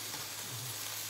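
Beef just added to rice in a hot pan sizzles in a steady, dense hiss, close and constant through the short moment.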